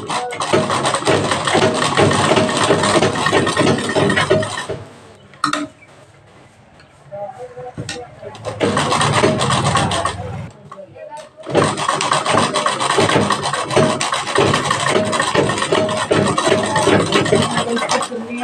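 A sewing machine stitching the sleeve of a belted blouse, a loud rapid mechanical rattle that runs in long stretches, stops briefly for a quieter pause and then resumes steadily.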